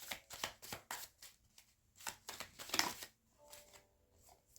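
Tarot cards are pulled from a deck and laid down in a rapid run of soft, close papery slaps and shuffles, then a brief quieter pause, with no talking.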